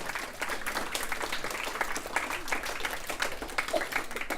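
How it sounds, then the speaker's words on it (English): A round of applause from the audience at an elementary school Battle of the Books event, fairly quiet with individual claps distinct in a loose, uneven patter. "Let's give them a round of applause"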